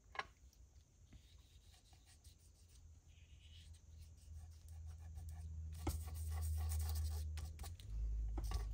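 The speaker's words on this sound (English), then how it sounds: "So I'm just buffing the edges of the paper out." Paper edges being buffed by fingertip for watercolor butterfly tags, a soft continuous rubbing and scraping close by that grows louder and denser toward the end, with no talking.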